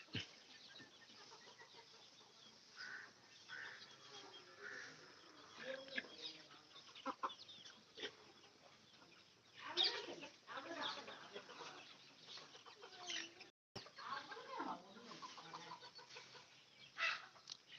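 Native country chickens graze on a cattle yard at a farm, giving soft scattered clucks and occasional louder calls, faint and close, with brief murmured speech and a short dropout near the end.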